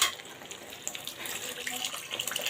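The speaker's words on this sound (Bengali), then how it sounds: "এখন আমি ঝোল দিয়ে দিব।" Broth is poured into a pan of curry cooking with eggplant and onion, a faint, close trickling splash that runs unevenly for a couple of seconds.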